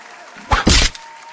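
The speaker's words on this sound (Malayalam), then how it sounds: "നിങ്ങൾ രണ്ടുപേരും വേഗം കൈകൊണ്ട് ബലൂൺ കുത്തി പൊട്ടിക്കണേ" Balloons burst by hand during a contest produce two sharp pops in quick succession, loud and close, with quiet around them.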